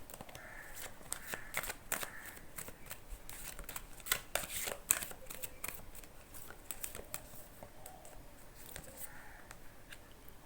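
Tarot cards being shuffled by hand in a repeated, crisp riffling patter that keeps up steadily for about ten seconds, close and fairly quiet, with no talking.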